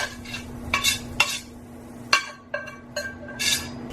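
A carrot and broccoli mixture is tossed in with other vegetables in a bowl, bringing a few sharp scraping, clinking and rustling strokes over a faint steady hum, close and separate.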